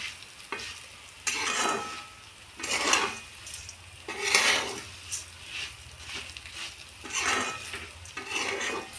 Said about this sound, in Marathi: आता याला चांगलं परतून घेणार आहोत आपण